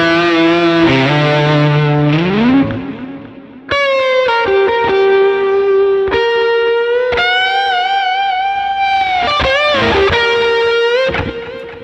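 Distorted electric guitar solo with sliding, bending lead notes, some struck hard and others backed off, giving uneven dynamics; loud and alone with effects-laden sustain and a brief dip partway through.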